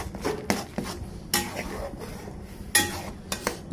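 Spice stirring in a pan while turmeric and chilli powder are mixed for a Bengali prawn and Malabar spinach curry: a few sharp clinks and scrapes of a utensil against the pan, with softer stirring between them, close and moderately quiet.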